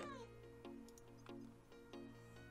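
A cat in Minecraft meows several times at a steady, evenly spaced pace, quiet and close, over soft background game tones.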